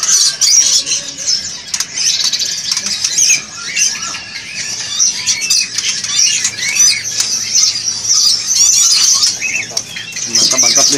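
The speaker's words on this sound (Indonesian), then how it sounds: "Murai betina." Female magpie robin calling in a bird shop: dense, shrill chirps and squawks run continuously and loud, overlapping with other birds' calls in a busy indoor space.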